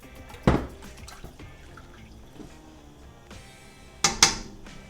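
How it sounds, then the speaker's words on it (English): Pork and its juices are poured into a pot of pozole rojo, with two wet splashing plops a few seconds apart and faint liquid sloshing between them. "So we're just going to add all the pork in there"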